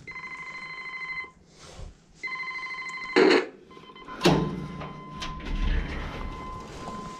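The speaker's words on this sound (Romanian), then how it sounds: "Am găsit scara de acum sună la interfon." An apartment building intercom at a stairwell entrance rings in two steady electronic bursts, each lasting about a second, followed by a couple of heavy door clunks and faint rustling nearby.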